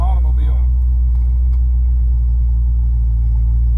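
A Ford car on the road gives off a deep, steady low drone that resonates through the hollow body and floor pan, constant and loud for the whole stretch.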